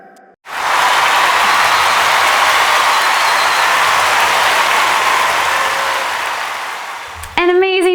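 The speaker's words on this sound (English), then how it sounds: "Let's give Pastor Dre some real applause for a job well done." Loud, dense audience applause rises abruptly and holds steady for about seven seconds at a children's elementary church celebration, then cuts off as music comes back in at the end.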